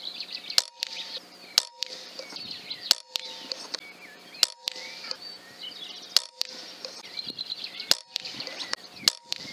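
A BRK Ghost air pistol fires Webley Accupell pellets in a string of sharp, close cracks about once a second, each followed by a brief metallic ring from the target, with no talking.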